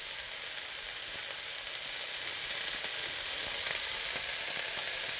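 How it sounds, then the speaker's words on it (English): Swiss chard with onions and garlic sautéing in a pan, giving a steady, close hiss of frying and sizzling with faint stirring crackles throughout, with no talking. "you've got some sauteed Swiss chard with some other vegetables like onions and garlic"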